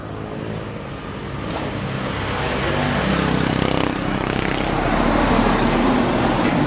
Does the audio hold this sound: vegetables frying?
no